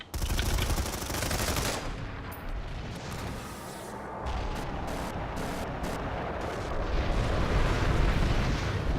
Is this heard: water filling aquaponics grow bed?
no